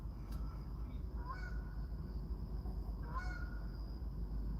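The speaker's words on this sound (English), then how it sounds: "Hear the geese?" Wild geese honk faintly outdoors in short bursts, two brief clusters of calls carried over a steady broadband background hiss.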